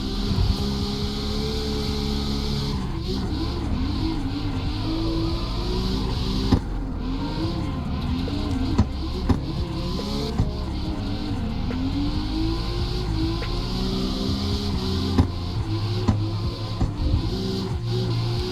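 A tuned drift car in CarX Street holds a loud, continuous engine drone with rising and falling revs, gear changes and tyre screech running throughout, up close with no talking.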